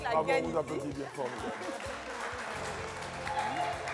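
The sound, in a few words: studio audience applauding loudly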